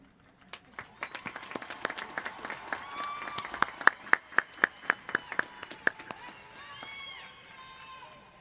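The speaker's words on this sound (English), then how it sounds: "Please join me with a round of applause in congratulating the students." A graduation audience applauds honor graduates at a high school ceremony, with sharp individual claps rising into steady clapping, then tapering off near the end.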